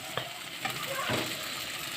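Boiled potatoes are lightly stir-fried in a pan for a Bengali rohu fish dish in mustard-poppy paste, giving a soft hiss with a couple of brief scraping stirs; no voices.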